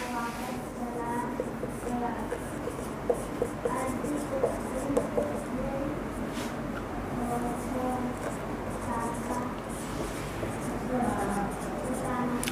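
Marker or chalk writing on a board in a classroom lesson on carbon allotropes, soft scratchy strokes with occasional taps, steady and close, heard under continuous speech from a teacher.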